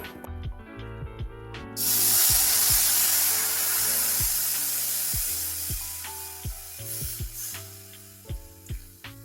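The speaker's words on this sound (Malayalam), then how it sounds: "ഉരുക്കിയ ശർക്കര പാനി ഒഴിക്കുകയാണ് ചെയ്യുന്നത്" A loud hiss and sizzle erupts as melted jaggery syrup hits a hot pan, then slowly fades while a steady hum continues beneath.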